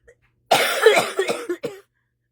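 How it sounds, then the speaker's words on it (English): A single close cough burst, harsh and breathy, followed by a couple of shorter hacking coughs, then quiet. "I acknowledge that I have a cough."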